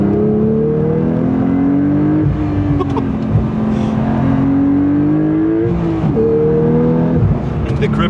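A 500 hp Porsche 911 with a manual gearbox accelerates hard on winter tires in cold weather, its engine note climbing steadily through the revs with brief dips at gear changes, loud and close throughout.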